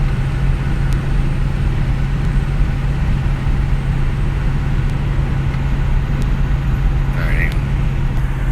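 A 2005 vehicle's engine idles after a cold start, a loud, steady low rumble with a constant hum and no change in pace, alone apart from a brief faint chirp near the end.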